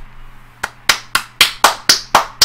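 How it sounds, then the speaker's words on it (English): Applause in the video game Supreme Ruler Ultimate: seven crisp, evenly spaced hand claps in a slow rhythm, each sharp and close, after a quiet start. "Applause in the background."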